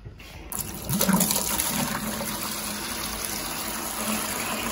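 Fresh water gushing from five-gallon buckets into a tank, a continuous close splashing pour that swells loudly at the start and then settles into a steady rushing flow.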